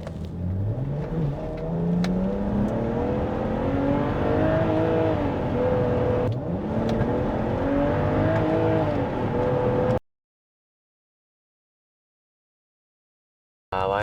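A BMW 335i engine revs hard at full throttle and climbs through its gears, the pitch rising and dropping loudly up close before cutting to sudden silence.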